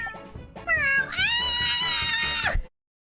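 A drawn-out, rising cat meow from The Great Ace Attorney video game, loud and close, holding steady for about two seconds before cutting off cleanly.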